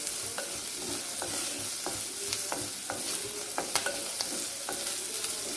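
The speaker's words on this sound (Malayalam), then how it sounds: "ഇത് നമുക്ക് നന്നായിട്ടൊന്ന് വഴറ്റിയെടുക്കാം." Shallots and curry leaves sauté in oil with a constant bright sizzle, punctuated by a regular rhythm of spoon stirs and scrapes against the pan; no talking.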